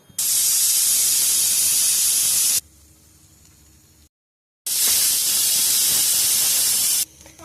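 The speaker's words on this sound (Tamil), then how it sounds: "ரெண்டு விசில் வந்துடுச்சு." Pressure cooker on the stove cooking tomato rice, letting out two long loud bursts of hissing steam whistle separated by a quieter gap and a brief silence.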